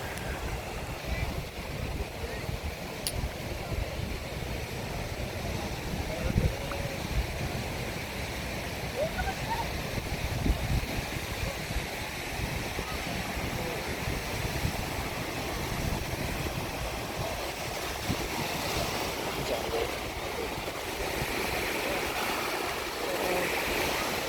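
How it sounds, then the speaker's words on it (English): Loud ocean waves break on the beach at Destin, Florida, a steady, rushing roar of surf that fills the whole stretch without pause. "The waves were so loud."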